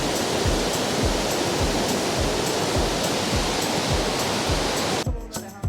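Water rushes and pours steadily in a mountain village of centuries-old wooden houses, a loud close continuous roar that cuts off abruptly near the end.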